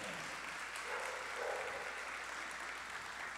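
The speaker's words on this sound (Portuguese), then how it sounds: "Vamos aplaudir?" Church congregation applause, a soft, even patter of clapping with no clear peaks, distant and faint for the short stretch.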